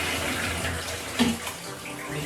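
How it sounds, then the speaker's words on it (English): A newly fitted toilet flushes and its cistern refills, giving a steady rush of running water that stays fairly even throughout, with a brief surge partway through and no talking. "flush is working."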